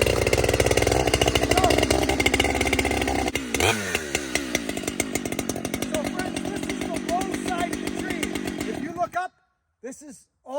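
A Husqvarna 592 XP heavy-duty chainsaw runs loud and close, its engine buzzing steadily and rising briefly in a rev before cutting out, leaving near silence with a few faint sounds.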